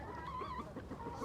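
Backyard chickens, some of them molting, make a short, faint, warbling cluck at close range against a soft background hum.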